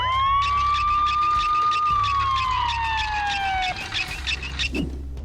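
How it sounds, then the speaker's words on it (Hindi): A loud wailing ambulance siren sweeps slowly up and down, close by, with a steady electronic tone and some clatter near the end. "हे एम्बुलेंस, जल्दी आओ।"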